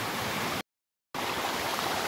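Small waterfall and stream of cold mountain water in a village forest, a steady rushing, splashing wash heard close with no voices, broken by a sudden half-second of silence before the flow resumes.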